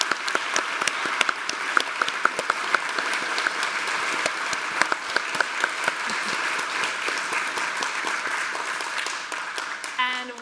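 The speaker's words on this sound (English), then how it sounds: "one more big round of applause" An audience applauds a band member after a performance, with sustained, dense clapping filling the room for several seconds and tapering near the end, fairly close and loud.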